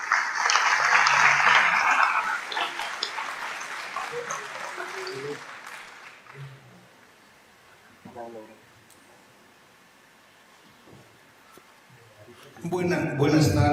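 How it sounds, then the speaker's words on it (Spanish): Applause welcomes a speaker at a Bolivian education symposium, a loud wash of clapping for about five seconds that fades into quiet room noise and murmurs, then returns briefly at the end. "Lo recibimos con un aplauso."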